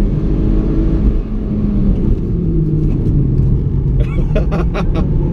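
A Mitsubishi Lancer Evo MR accelerates hard in first gear around a figure-eight course. Engine roar builds as turbo boost comes in, and a few sharp clatters sound toward the end. The noise is loud, close and steady from inside the cabin.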